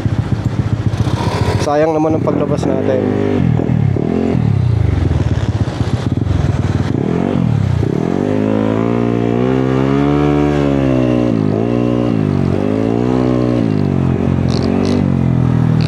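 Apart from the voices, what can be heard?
motorcycle riding around to warm up its engine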